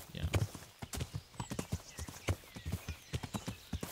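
A ridden horse in a video game trots along with quick, evenly spaced hoof clip-clops, close and clear, repeating steadily throughout.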